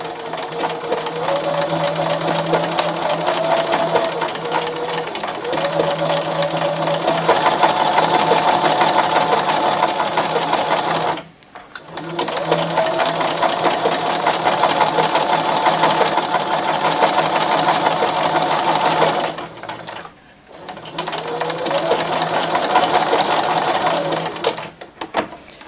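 A sewing machine stitching a blind hem runs in three long, steady bursts of close mechanical whirring, with two short pauses between them.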